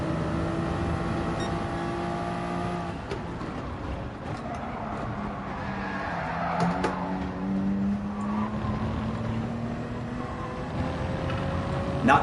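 Race cars in a racing video game barreling down from behind, a continuous engine drone with shifting pitch and a passing surge near the middle, steady and fairly loud, without speech.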